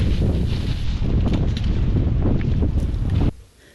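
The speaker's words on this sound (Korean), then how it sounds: "하루 종일 바람이 세차게 부네요." Strong gusting wind buffets the microphone on a Baekdudaegan mountain ridge near Seokbyeongsan during a gale warning, a loud rushing roar with rustling that swells and then suddenly drops away near the end.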